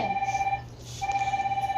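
A phone alarm rings nearby with a steady electronic tone in short pulses, breaking off briefly midway before resuming.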